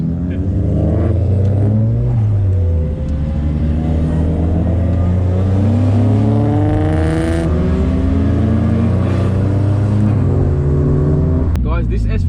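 Nissan S15 Silvia engines, one making over 400 kilowatts, rumble and rev loudly and steadily throughout, with people talking over the noise.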